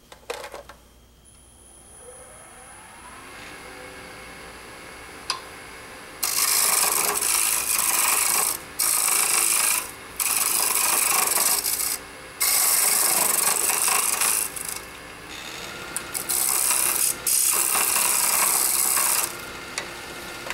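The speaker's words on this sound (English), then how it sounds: "Now I've got the bulk out, and I've got a little scraper. I just go back in." A small scraper cuts inside a wooden Roman flask turning on a lathe. It makes a loud, close, rasping scrape in long bursts with brief pauses, over the steady hum of the lathe.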